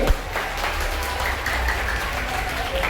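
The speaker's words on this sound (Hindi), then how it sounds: "बच्चों जोरदार तालियों से इनका अभिवादन कीजिए। जोरदार तालियां" Schoolchildren at a Guru Purnima felicitation ceremony at Swami Vivekananda Vidyalaya give a loud burst of clapping. The dense applause runs on without pause for a few seconds, with some faint voices mixed in.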